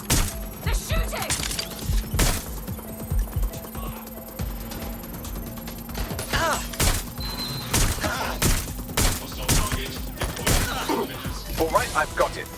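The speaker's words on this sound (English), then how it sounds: "Stop letting off! They're shooting!" Gunfire in Watch Dogs Legion, sharp cracks and bursts scattered irregularly through the scene over a low hum and background game noise, with some thuds between shots and voices speaking at times.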